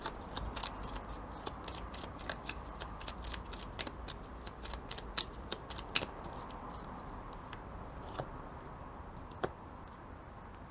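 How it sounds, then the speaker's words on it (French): Tarot cards are shuffled by hand, a soft, close riffle of quick papery flicks and taps repeating steadily and quietly with no talk. "je prends le temps de bien mélanger les cartes"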